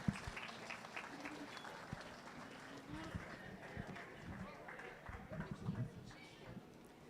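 A faint, scattered applause from a small audience at a 4-H market goat show at the Elbert County Fair, sustained for several seconds with light, patchy clapping and some crowd murmur in a large arena.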